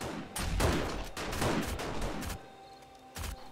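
Gunfire in the survival game 7 Days to Die during a horde night comes as a rapid cluster of shots and impacts, followed by a short lull and then one more burst near the end.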